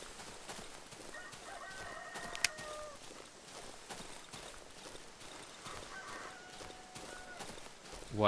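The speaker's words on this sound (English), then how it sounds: "Why is there a rooster?" A rooster crows in the horror video game Darkwood, a strained, drawn-out call repeated a couple of times at moderate distance over low ambient game noise.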